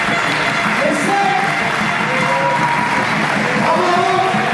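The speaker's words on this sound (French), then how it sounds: "On peut les applaudir." An audience breaks into applause at an evening event in Metz, a dense, steady wash of clapping that runs the whole time, with a few whistles or cheers rising above it.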